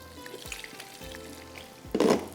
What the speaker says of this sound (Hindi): इसके अंदर हम यहाँ रखते हैं और कबाब्स को फ्राई करके निकालेंगे